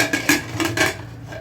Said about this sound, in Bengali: এবার আমি কুকারের ঢাকনাটা খুলে নিচ্ছি।